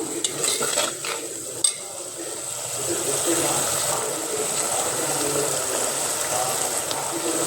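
Ginger paste with turmeric sizzles and fries steadily in a pan for a fish curry, with scraping stir strokes and a sharp clink near the start, all close and continuous with no talking.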